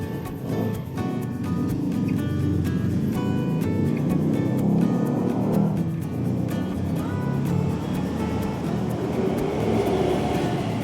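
Steady, loud rumble of a twelve-car Thai passenger train, rapid train 167 from Bangkok to Kantang, rolling along the tracks, with continuous low clatter and a faint metallic hiss, heard from close by with no talking.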